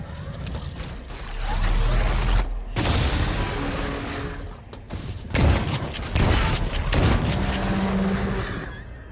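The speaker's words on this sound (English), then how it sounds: "it's shooting laser beams at me" An enemy in System Shock firing laser beams, loud repeated bursts of blasting fire in several waves with brief gaps between, accompanied by mechanical whirs and rumbling impacts.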